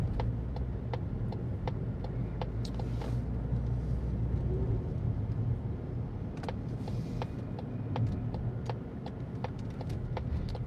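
A car on the move heard from inside the cabin: a steady low road and engine rumble fills the whole stretch, with faint scattered ticks and clicks over the top and no talking.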